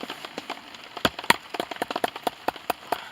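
Steady patter of rain during a bivouac, with scattered sharper drops and taps striking a surface nearby, fairly quiet throughout.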